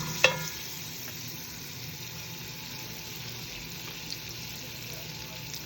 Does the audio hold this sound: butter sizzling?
yes